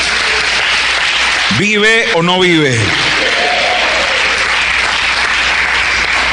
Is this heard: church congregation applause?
yes